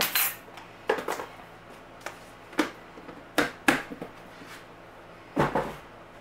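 Kitchen sounds while cooking supper: a metal spoon clinks and taps against a sugar container and dishes in a series of sharp, irregular knocks and scrapes, fairly close and without talk.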